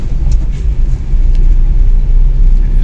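A Tata Altroz XM hatchback picks up speed on a wet road, heard from inside as a loud, steady low engine and road rumble that thickens slightly toward the end.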